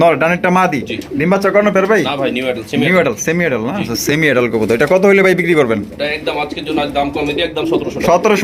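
Pigeons offered for sale as a pair at a Bangladeshi pigeon market coo softly and steadily beneath a man's loud, continuous talking.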